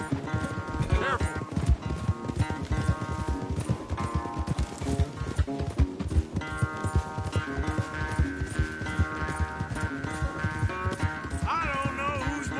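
In Red Dead Redemption 2, a horse gallops in a race with continuous rhythmic hoof clatter. Music and voices talk over it, with a whinny partway through.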